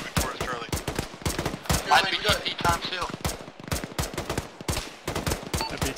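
Heavy, sustained gunfire rattles through an Arma infantry firefight with ShackTac, dense rapid bursts of machine-gun and rifle shots close by and loud, with voices calling out over the shooting.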